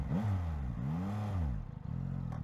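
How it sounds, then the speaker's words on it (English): A 2024 Yamaha MT-09 motorcycle with a quick shifter drops two gears from third to first: the engine note blips and rises in two quick revving sweeps, then settles into a lower, burbling idle-like drone, heard close with no talk. "That one just did a double downshift there from third to first"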